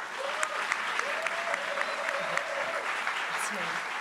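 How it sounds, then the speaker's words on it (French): Audience applause closing a live French political ASMR interview, a steady wash of clapping from a crowd running throughout with scattered louder claps. "On peut applaudir, s'il vous plaît."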